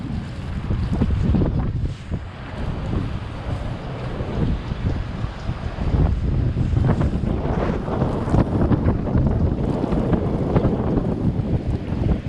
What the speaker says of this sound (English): The wind is literally blowing in my face.